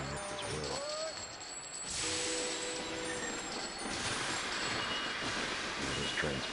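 Trains in the Sid Meier's Railroads! video game roll along different rails, a continuous rumbling clatter with brief metallic squeals and tonal whines, heard alongside someone talking.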